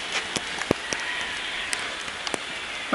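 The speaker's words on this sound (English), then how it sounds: "Oh, it's raining." Rain in a VR video game patters softly and steadily, with scattered sharper drops ticking over a gentle hiss.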